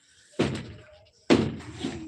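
A door is pushed shut twice, giving two close, solid thuds about a second apart, each with a short fading rattle, with no voices.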